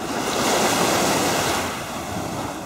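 Waves wash onto the sandy shore of Lake Khanka, a huge freshwater lake, in a loud, continuous surging rush mixed with wind noise on the microphone.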